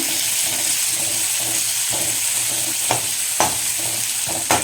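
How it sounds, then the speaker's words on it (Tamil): Onions sautéing in a pan with mustard seeds, fennel and cumin, a loud, close, even sizzle punctuated by a few sharp spatula clicks against the pan. "இப்போ வெங்காயம் வதக்கலாங்க"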